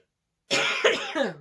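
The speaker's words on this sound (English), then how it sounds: "You can't see me, but I'm coughing into my arm." A single loud, harsh cough bursts out after a half-second of silence, with a rough follow-up hack close to the microphone.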